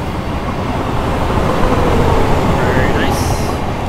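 A Class 455 electric train running in Train Simulator 2018 on the Woking to London Waterloo route, a loud steady rolling rumble with rail noise throughout and a brief rising whine near the end, under a voice.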